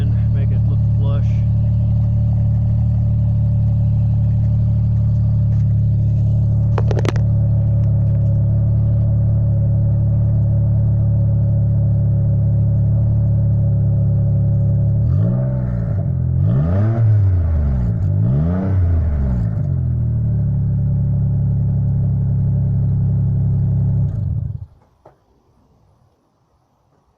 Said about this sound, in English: All in all, the eBay exhaust is not too bad.